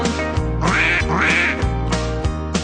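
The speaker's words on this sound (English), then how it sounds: "Right, the ducks go" Ducks quack in a loud, close series of nasal calls with a bouncy rhythm, set against a musical backing in a children's farm animal song.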